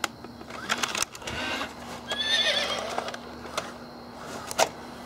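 A toy horse bought at a flea market gives a mechanical neigh and whinny, a short fluttering call with clip-clop clicks and sharp taps around it, fairly close and otherwise quiet.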